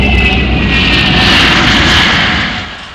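A MiG-242 jet aircraft flies past with a loud, steady engine roar that holds for a couple of seconds and then begins to fade, with no voices.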